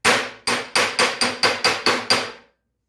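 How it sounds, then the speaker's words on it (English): Hammer striking the dented steel side of a 1951 Chevy truck box, eight loud ringing metallic blows in quick, fairly even rhythm, close up and alone. "I can beat the hell out of this and try and get this round shape back"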